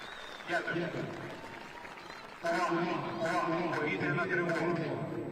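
A crowd at a Ukrainian Cup football match applauds in the stadium, faint at first and then swelling into steady clapping, with a commentator talking over it throughout.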